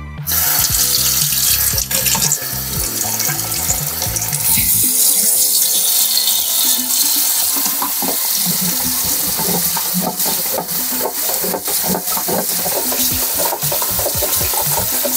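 Cold tap water runs hard into a sink while rinsing a black-and-white film developing tank, a loud continuous gushing splash whose tone shifts as the flow meets the tank, with no talking.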